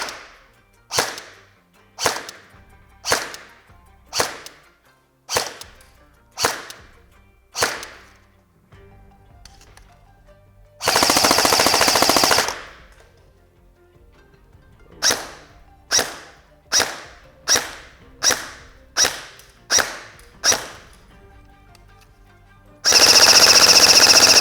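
S&T Type 64 airsoft rifle firing 0.2 g BBs on an 11.1 V LiPo battery during a chronograph test: two strings of sharp, evenly spaced single shots, each separated by a short loud burst of full-auto fire, with no talking.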